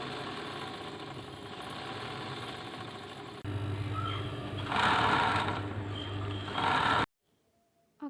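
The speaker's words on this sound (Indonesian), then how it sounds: "di sini saya memiliki mesin jahit tipe industri. Ini mereknya adalah Tipikal." A Typical-brand industrial sewing machine runs in bursts, a steady close motor whir with a rapid mechanical needle chatter that speeds up and stops abruptly, then near silence.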